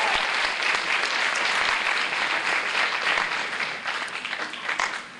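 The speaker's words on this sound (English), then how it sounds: "that deserves a round of applause" An audience applauds at a community theatre production of "Joseph", dense steady clapping from a crowd filling the room, easing off slightly toward the end.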